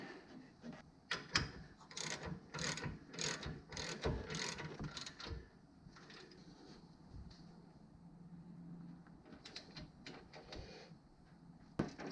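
A ratchet tightens suspension bolts on a 2010 Camaro SS, with quick bursts of sharp clicking pawl strokes up close, then pauses and a few more scattered clicks, faint otherwise.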